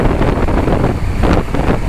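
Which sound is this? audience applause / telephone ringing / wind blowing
wind blowing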